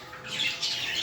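A pet parrot gives a harsh, drawn-out squawk, fairly close and moderately loud, rising toward the end with no talking over it.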